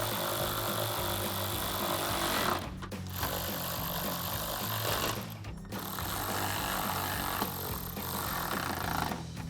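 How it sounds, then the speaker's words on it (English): A power tool runs a 10 mm socket to tighten bolts on a 2014-2015 Silverado 1500 headlight, a continuous buzzing whir with brief pauses, fairly faint. "take a 10 mil socket to tighten it down"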